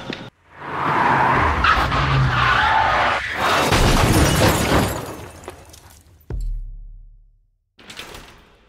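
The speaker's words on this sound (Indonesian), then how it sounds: "Film diawali dengan kecelakaan sebuah mobil" A car crash in a film: tyres screech and skid for several seconds, then a heavy impact with shattering glass, followed by a low rumble and a final clatter.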